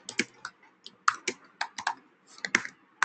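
Someone types code on a computer keyboard, irregular clusters of crisp key clicks with short pauses between bursts, close and fairly quiet, with no talking.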